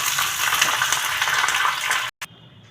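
Curry leaves crackle in hot tempering oil with dried red chillies and asafoetida for an ivy gourd pickle, a steady bright sizzle that cuts off abruptly near the end.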